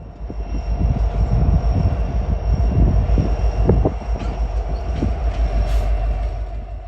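A short three-car heavy freight train rumbles past close by, a loud, deep, continuous roar with rhythmic clatter and steady low-frequency weight, no speech.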